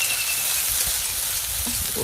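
Chopped onions frying in oil in a wok, a steady close sizzle and crackle that holds evenly for the whole stretch with no talk over it.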